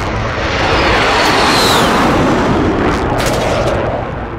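Dense gunfire and heavy artillery blasts roar in the Warzone video game, with aircraft engine noise woven through a loud, continuous wall of explosions and no speech.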